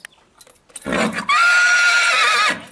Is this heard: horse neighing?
yes